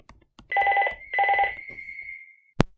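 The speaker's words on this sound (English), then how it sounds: "Sorry for the interruption there, the phone rang." A telephone rings indoors in two electronic trilling bursts, loud and close, the second trailing off into a fading tone, ending with a sharp click.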